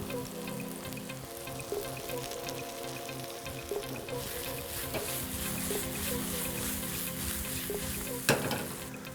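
Eggplant, mushrooms and garlic sauté in a hot pan with a steady sizzle, broken by a few stirring knocks and scrapes and one sharper clatter near the end, with no talking.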